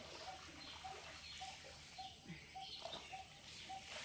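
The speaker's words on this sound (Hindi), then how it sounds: "पंछियों की आवाज़ साथ में जल की आवाज़ बड़ी मधुर लगती है।" Birds call outdoors near water, a faint, regular repeating note, likely a dove cooing, at about half-second intervals over steady flowing-water noise, with no talk.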